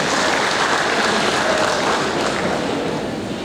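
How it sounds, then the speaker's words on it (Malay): A large gathering in a big school assembly hall claps in loud, continuous applause that thins slightly toward the end. "Tepuk tangan untuk semua."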